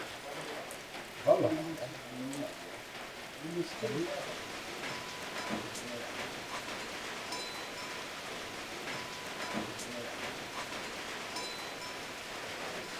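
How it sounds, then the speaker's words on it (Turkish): Heavy rain falls steadily on a shelter, a soft continuous patter at low level, while people talk briefly over it. "Yağmur şiddetlendi."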